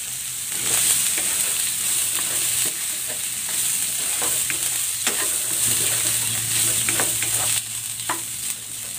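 Pork sizzling and frying in a pan with onions, a steady close hiss with scattered pops and crackles and occasional scrapes of stirring throughout, no voices.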